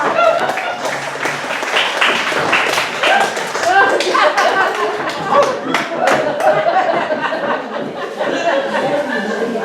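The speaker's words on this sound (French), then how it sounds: "On peut l'applaudir également bien fort." Studio audience at a French comedy show claps loudly and steadily for a young woman who has just won, with laughter and chatter mixed into the continuous applause.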